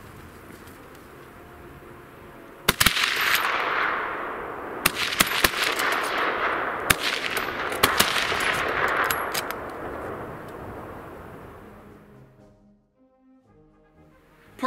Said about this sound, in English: a faster, more decisive engagement with rapid fire